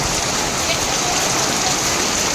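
Dense, steady rain pouring down nearby, a loud unbroken hiss of drops without pauses.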